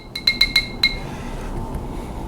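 A watercolour paintbrush is rinsed in a glass of water, tapping it five quick times with bright ringing clinks, followed by faint swishing.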